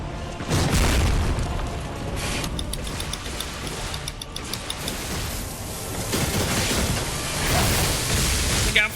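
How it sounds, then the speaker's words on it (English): Explosions in the video game Lies of P, several deep booms and rumbling bursts in a dense, noisy stretch of combat, fairly loud and overlapping. "Look out for the explosions"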